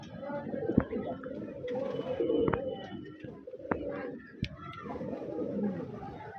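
Two pigeons in a small cage coo softly and repeatedly, close by, with sharp clicks and rustling at irregular moments and steady background noise.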